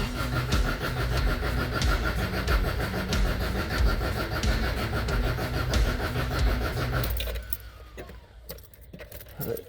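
A 1977 Toyota Celica GT engine with a Weber 32/36 carburetor cranks steadily with a rapid rhythmic churning for about seven seconds, then stops, leaving quieter mechanical ticks and rustling close by.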